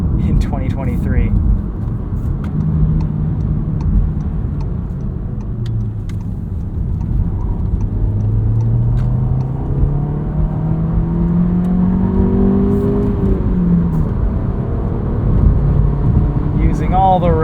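A 2023 Volkswagen Jetta Sport with a 6-speed manual is driven from inside. Its engine drones low and rises and falls through the gears under steady road noise while a person talks over it.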